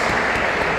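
Congregation clapping during a Thursday church service, a dense, steady wash of hands filling the short moment with no voices standing out.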